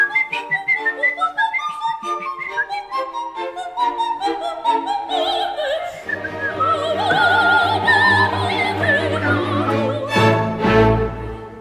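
A solo whistler renders Mozart's Queen of the Night Act 2 aria, with rapid staccato runs, leaps and trills climbing into a shrill, high register, loud and close throughout with no talking.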